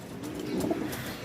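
Racing pigeons coo softly over a short moment, a faint low murmur heard alone.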